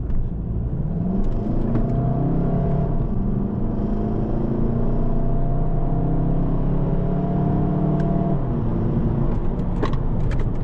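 A Volkswagen Golf GTD Mk7.5 engine drones steadily with rising whirring tones as it accelerates in sport mode, heard from inside the car at constant loudness.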